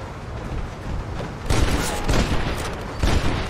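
Gunfire in a Red Dead Redemption shootout, a dense volley of overlapping shots with heavier booming bursts at intervals, close and loud.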